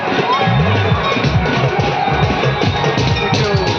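Crowd at a Durga Puja idol farewell procession in Jhanjharpur village, loud continuous hubbub with music-like tonal sounds and cheering mixed in, close and busy.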